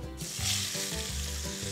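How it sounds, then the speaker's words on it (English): Onion rings sizzling in hot oil in a pan, a steady broadband fry under a low, repeating rumble, close and fairly quiet with no talk. "Now what I'm going to do is I'm going to add in our onion rings."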